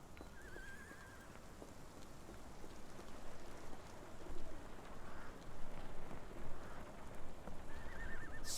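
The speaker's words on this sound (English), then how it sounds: "This dreary rain is making a miserable day even worse." Steady rain falling in a dreary street scene in Sherlock Holmes: The Awakened, a soft continuous hiss with faint bird chirps and occasional distant hoof clip-clops.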